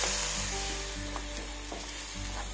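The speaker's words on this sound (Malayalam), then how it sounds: "ഇതും ഇങ്ങനെ വഴറ്റിയിട്ട് ആ ടൊമാറ്റോൻ്റെ പച്ച സ്മെല്ലൊക്കെ ഒന്ന് പോകണം" Tomato paste sautéing in a pan for paneer masala, a steady close sizzle with soft stirring scrapes throughout and no talking.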